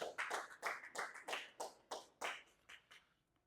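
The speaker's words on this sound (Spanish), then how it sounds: "Dele un aplauso al Señor." Rhythmic hand clapping from a church congregation praising God, about a dozen sharp claps in a steady beat that thin out and fade toward the end.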